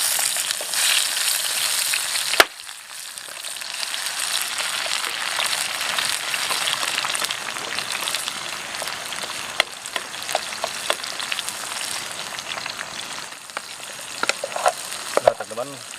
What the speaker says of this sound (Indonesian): Nah lanjut kita goreng ya.